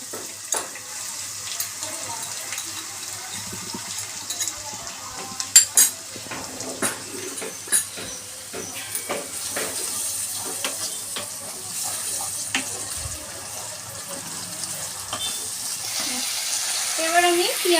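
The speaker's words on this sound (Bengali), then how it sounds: "এবার এর মধ্যে আমি টমেটো বাটাটা দিয়ে দেব।" Masala sizzles and fries in a pan as tomato paste goes in, with frequent clinks and scrapes of a metal spoon stirring against the pan, a steady hiss underneath and a few louder knocks.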